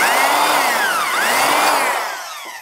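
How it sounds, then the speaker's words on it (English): A loud, continuous drill whir with a pitch that sags midway and climbs again, fading a little as the hole is finished. "Drill a hole."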